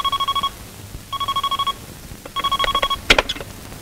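An old telephone rings in bursts, three rapid trilling rings separated by short pauses, fairly close and clear, with a brief clatter at the end.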